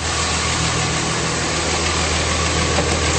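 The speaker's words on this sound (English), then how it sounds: "And under the hood, nice clean engine bay, running very smoothly." A 2006 Dodge Ram 3500 with a 5.9L diesel engine idles steadily and smoothly, heard up close with the hood open as a continuous loud rumble.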